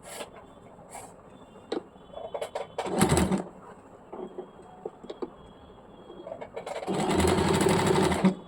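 A sewing machine stitches a petticoat seam in short bursts of rapid mechanical whirring: a brief run, a pause with small clicks and handling noises, then a longer, steady stretch of stitching.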